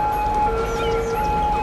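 Ambulance siren in the city-building game Cities: Skylines during a flood, sustained steady tones held over a thick, noisy background of rushing water and game ambience, brief and fairly loud.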